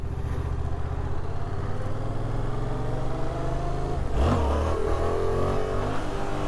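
A Yamaha FZ-07 motorcycle idling, then pulling away, its engine note rising sharply as it accelerates, loud and close, with a steady engine hum beneath.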